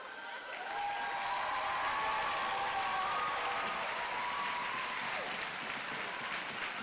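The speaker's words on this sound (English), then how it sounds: "a big cheer from the crowd as our skater seems to be upright and healthy" A crowd at a junior roller derby World Cup game between USA and Australia claps and cheers, with loud, sustained applause filling the arena for several seconds.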